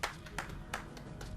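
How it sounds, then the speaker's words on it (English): A few sharp hand claps in the video game Zero Escape: Virtue's Last Reward, irregular and close, over low background noise. "You clapped your hands"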